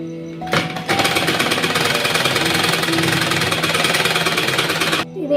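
An electric sewing machine stitches round the folded corner of a designer shirt for an 11- to 12-year-old child, running in a loud, fast, steady mechanical chatter for several seconds before stopping abruptly.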